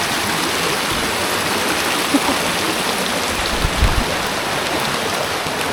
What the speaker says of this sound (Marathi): पाऊस भरपूर लागतोय